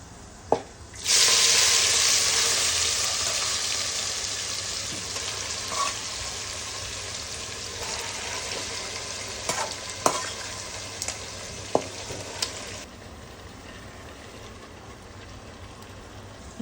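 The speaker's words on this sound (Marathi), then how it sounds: "आपण अर्धा तास मसाला लावून ठेवलेला चिकन यात टाकू" Marinated chicken dropped into hot oil with whole spices for matka biryani, a loud sizzle bursting up then settling into steady frying, with occasional clinks and scrapes of stirring.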